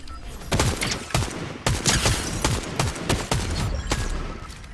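Gunfire in Fortnite, with rapid bursts of close, loud shots in uneven volleys and some heavier booms, continuing without talk.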